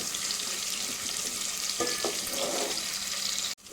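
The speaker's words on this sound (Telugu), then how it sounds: "ఒకసారి ఈవెన్గా కలుపుకొని ఈవెన్గా కలిసేటట్టు ఫ్రై చేసుకోవాలి" Green chillies and curry leaves fry in a pan for fish pulusu, a steady hissing sizzle with a couple of short stirring knocks, close and moderate, ending in an abrupt cut.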